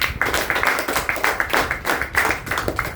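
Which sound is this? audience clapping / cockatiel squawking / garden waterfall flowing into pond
audience clapping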